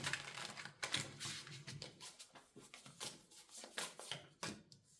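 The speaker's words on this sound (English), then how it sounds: "the way I'm shuffling them, they keep hitting each other" Tarot cards are being shuffled, clicking and knocking against each other in a quick irregular patter of soft, close-up taps that continues throughout.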